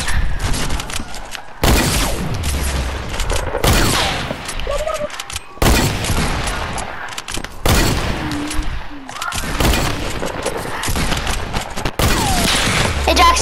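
Sniper rifle fire in Fortnite, several loud, close single shots spaced a couple of seconds apart, each a sharp crack with a short decaying tail.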